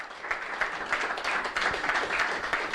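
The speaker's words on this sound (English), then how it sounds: "can a big round of applause, please, for the high roller champion in Edinburgh" Audience applause for the high roller champion at a poker tournament in Edinburgh, a steady crowd of many hands clapping together, dense and sustained from start to finish without letup.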